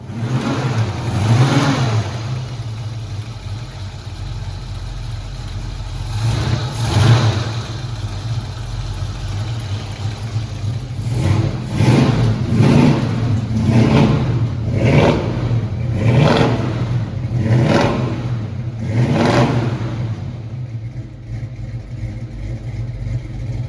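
A 1968 Mustang engine with a loose, cocked part runs and revs repeatedly, its loud, rough drone swelling in a series of short bursts over a constant idle.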